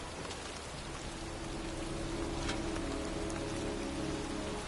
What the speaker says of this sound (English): standing in a cemetery in pouring rain